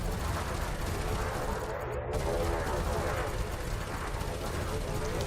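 Ship multi-cannons fire in the World of Warships Legends video game, a dense, continuous barrage of rumbling gunfire and booms that fills the whole stretch at steady loudness.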